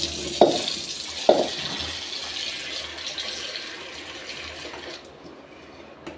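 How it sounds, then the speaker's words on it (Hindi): Jackfruit pieces are rinsed in water, a steady splashing and sloshing with two sharper knocks early on, close by and without talk. "तो दो पानी से धो देते हैं"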